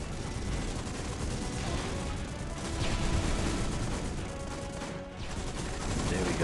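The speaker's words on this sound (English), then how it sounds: "we're gonna use a gunship skill. Try to soften up these howitzers." A gunship skill rains sustained gunfire and blasts on howitzers in the mobile game Call of Duty Heroes, a dense rolling barrage of shots and booms that continues throughout.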